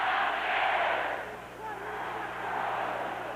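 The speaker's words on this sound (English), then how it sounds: "Capacity crowd, and most of them West Virginians, or at least rooting for West Virginia, as would be expected." A capacity stadium crowd of mostly West Virginia fans at a 1984 Penn State at West Virginia college football game, a broad steady roar that swells and eases from a distance.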